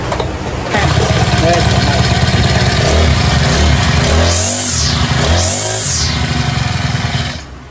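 A new farm grass cutting machine's engine catches and runs with a loud, steady motorized drone and a couple of rising whooshing sweeps before cutting off, while people talk over it.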